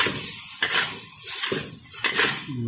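Fried rice with sausage and light soy sauce being stirred in a pan, with a utensil scraping and clanking against the metal in quick repeated strokes over a faint sizzle, close and fairly loud.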